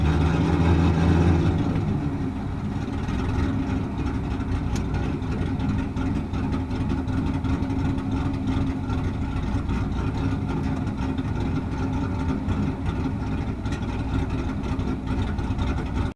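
Manual-transmission fifth-generation Camaro idling steadily, its low rumble sagging slightly as the clutch begins to engage, then holding a constant, moderately loud drone with no talk.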